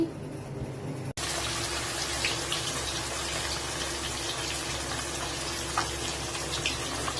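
Fish and meat are washed under running water. After a short quiet start, a continuous, close gush of tap water flows steadily to the end.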